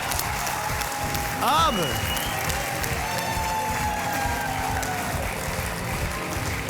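A studio audience applauds on a TV game show as a contestant quits with his winnings: a broad wash of clapping and some cheering under music and a loud rising sound effect near the start.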